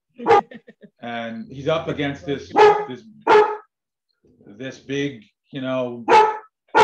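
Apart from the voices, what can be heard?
dog barking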